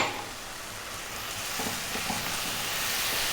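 Ground turmeric, chili, cumin and coriander sizzle in a hot pan for a lamb curry (mutton masala), a steady close hiss with a few soft stirring ticks and no talking.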